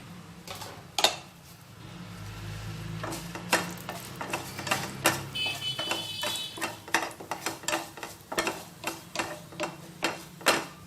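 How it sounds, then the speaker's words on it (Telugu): Crackling, popping sizzle of tempering spices and dried red chillies dropped into hot oil, with scattered sharp pops and stirring clicks throughout, close and fairly loud, no talking. "ఇప్పుడు ఆయిల్ వేడెక్కింది ఇందులో పోపు దినుసులు వేసేసుకుందాము"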